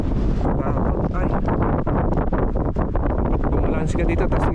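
Strong gusting wind on a mountain trail at Mt. Kimat Patil-Ao buffets the microphone with a constant loud roar, while voices talk faintly underneath.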